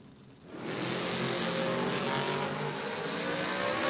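A Camaro and a Nova launch in a drag race at a door-car event, engines surging from a low idle into a loud, sustained high-revving roar that fills the rest of the moment without pause.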